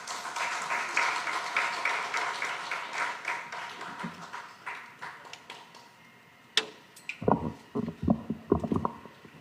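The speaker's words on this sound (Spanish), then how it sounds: "Lo recibimos con fuertes aplausos, por favor." An audience at a conference in Peru's Congress claps to welcome a speaker. A dense patter of hands fills the first several seconds and fades out, followed by a sharp knock and some close handling thumps.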